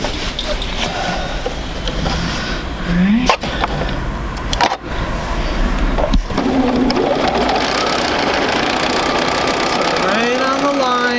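A sewing machine runs steadily, stitching quilt sampler fabric pieces along marked lines in a close, continuous whirring hum, broken by a few clicks and bumps while someone talks over it.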